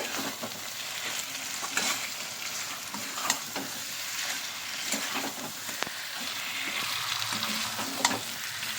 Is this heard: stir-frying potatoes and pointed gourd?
yes